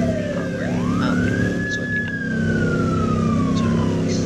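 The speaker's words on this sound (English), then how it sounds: "Turn off my siren." A police car siren in a Roblox police roleplay game wails steadily, its pitch sweeping up and then slowly falling, loud and continuous over a low engine-like drone.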